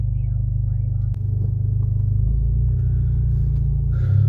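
Alfa Romeo Giulia Quadrifoglio Q4 sports car pulling away, its engine a steady deep rumble with low droning tones that hold evenly throughout and swell slightly at the end.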